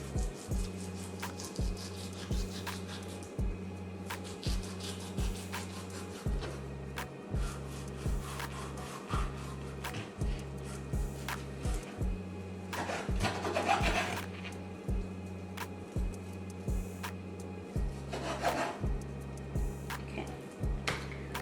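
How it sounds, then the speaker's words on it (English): A knife trims fat off meat for crock-pot chili verde, making close, regular rasping strokes, about one per second, with faint scraping between and no speech. "So if I ever see any fatty pieces, I'll just start trimming them off."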